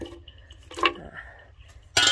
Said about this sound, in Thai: แล้วก็ใส่น้ำลงไปสักประมาณ 500 ml ค่ะ เทน้ำใส่ก่อน